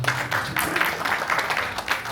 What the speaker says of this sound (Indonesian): Kok nggak tepuk tangan kalian?